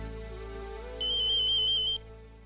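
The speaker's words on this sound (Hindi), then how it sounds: "आई का फोन है" A mobile phone ringtone sounds as one short burst of rapid electronic beeping lasting about a second, clear and fairly close, over a soft steady background tone.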